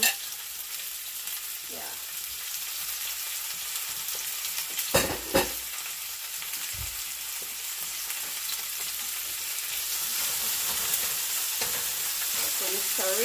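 Garlic, scallion and tomato fry on a stove for Jamaican-style ackee and saltfish, giving a loud, steady sizzle throughout with a couple of brief clanks near the middle and a faint voice now and then.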